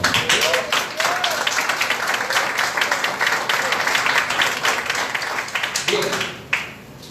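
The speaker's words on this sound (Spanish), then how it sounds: "Vamos a ofrecerle un aplauso al Señor en esta hora." Applause from a church congregation after a sermon prayer, a steady wash of clapping filling the room for most of the stretch, with voices mixed in and the clapping tapering near the end.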